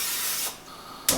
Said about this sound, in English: I'm going to be using some 0-calorie butter spray.